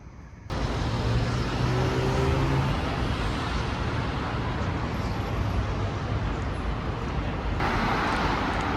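Cars pass on a main city street in Madrid as a continuous close roar of traffic that stays steady and loud throughout.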